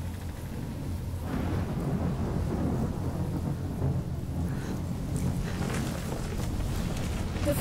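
A thunderstorm in the video game Life is Strange: steady heavy rain and a long low rumble of thunder swell and fade, moderately loud throughout, with no talking.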